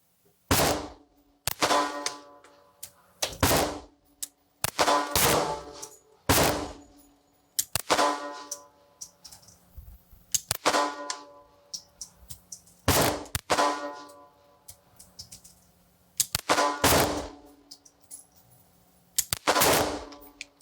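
A Sig P365 .380 pistol firing Blazer ammunition at an outdoor range: about ten sharp, loud, evenly spaced gunshots, each with a short ringing tail and no talk.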